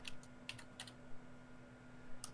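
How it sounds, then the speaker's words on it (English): Faint, distant typing on a computer keyboard, a few sparse key clicks over a low steady hum. "Yeah, Grim is typing again"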